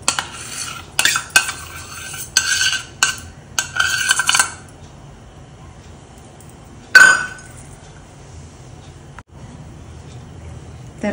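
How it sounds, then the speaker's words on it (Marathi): Milk and cream being stirred in a pan to make khoa, with a spoon scraping and clinking against the metal in bursts for the first few seconds, then a quieter stretch with one sharp clink. "हे पूर्ण मिश्रण आटेपर्यंत असंच ढवळत राहायचं आहे"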